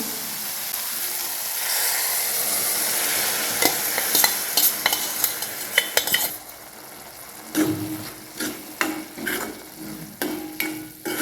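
Cooked mung beans tipped into hot, oily masala sizzle loudly, then a spoon scrapes and stirs the pan in uneven bursts as the frying settles to a quieter crackle.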